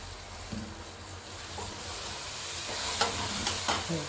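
Asafoetida powder fries in hot oil for a garlic curry, a soft steady sizzle and hiss with a few light stirring clicks and scrapes near the end.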